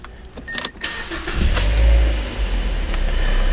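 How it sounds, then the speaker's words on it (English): A car engine is started up close by, with a brief crank before it catches around the midpoint and settles into a steady, loud low idle rumble. "first I'm gonna start the car"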